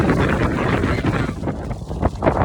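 Gusty wind buffets the microphone outdoors, a loud, constant rumbling roar with surging bursts and no clear voices.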